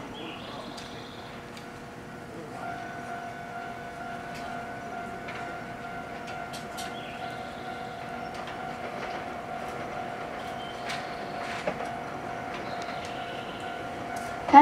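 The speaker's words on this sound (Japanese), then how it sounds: "ただいま到着の電車は空港急行関西空港行きでございます。" A Nankai 9000 series airport express train pulls into Kaizuka station, a sustained motor whine with steady tones and rail clatter, rolling and braking nearby with occasional clicks, ending in a sudden louder burst.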